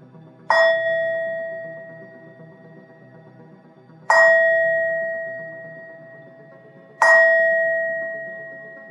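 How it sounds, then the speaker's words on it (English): A meditation bell rung three times to close a mindfulness session, each strike a clear, sustained ring with a long fading tail, spaced a few seconds apart in an otherwise quiet room. "I'm going to ring the bell and close your eyes and listen to the sound of the bell."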